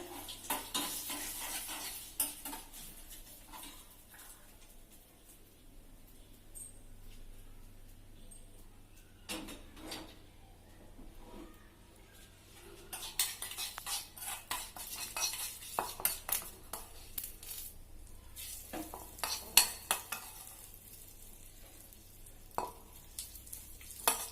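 Coconut chutney being mixed in a pan with turmeric after a fry, a quiet kitchen scene of scraping spoon and utensil clinks that grow busier and clattery toward the end, with no voices.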